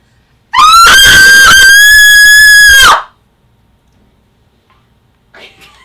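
A woman lets out one long, piercing scream lasting over two seconds, very loud and close, followed by silence and a brief faint sound.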